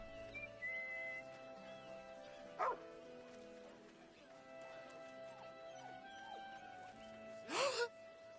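A courier dog barks in Baldur's Gate 3, two short separate barks over a steady game music bed, loud and close.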